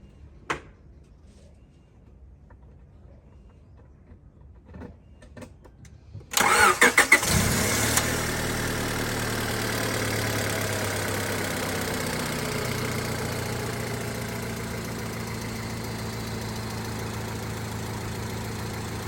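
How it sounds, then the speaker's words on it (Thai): A used Honda Civic three-door's engine cranks and catches after a few quiet clicks, then settles into a steady, even idle that runs on. "ฟังเสียงเครื่องยนต์กันนะครับ"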